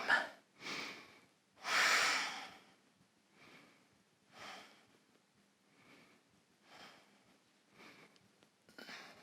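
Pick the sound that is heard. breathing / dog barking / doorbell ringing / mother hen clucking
breathing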